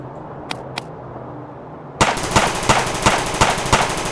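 Rapid bursts of gunfire from a Lego War of the Worlds movie battle: two faint sharp shots, then a loud, dense volley of repeated cracks fired in a quick, uneven rhythm, close and alone.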